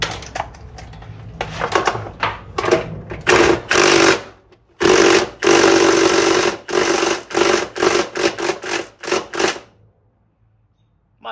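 A torque wrench tightens bolts on a 1999 Chevrolet S10 2.2L engine during rear main seal work. Loud, rapid mechanical clicking comes in dense bursts separated by short pauses, close up, then fades to silence.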